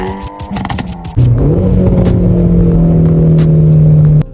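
A BMW X7 M60i SUV with a twin-turbo V8 pulls away, its engine swelling into a steady, loud drone heard from inside the cabin, with a few light clicks before it settles.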